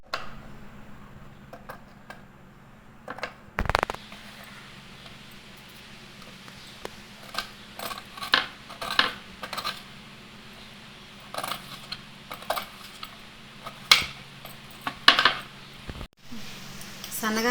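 Finely chopped onions are stirred by hand into a ground flour batter for vadas, with soft wet squelches and scattered clinks of a bowl under light kitchen background noise.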